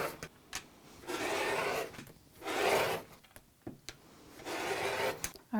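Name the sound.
trimming sewn potholder fabric square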